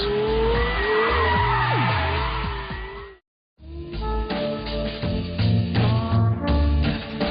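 A Porsche Carrera GT tears along at speed, engine roaring and tires squealing through a skid, then the sound cuts out briefly before loud revving returns.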